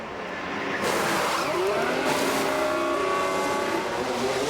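F1 cars pulling into the pits at the Belgian race in F1 Manager 2023, a loud engine drone rising in at the start and holding steady with shifting whining tones as cars roll past.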